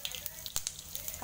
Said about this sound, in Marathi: आता तेल गरम झालेलं आहे, आता ह्याच्यामध्ये मी ओली मिरची घालते, नंतर हे जिरं घालते